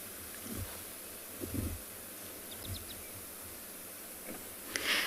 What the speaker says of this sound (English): I'm sure that you can hear the wind as well. Lots of rustling going on.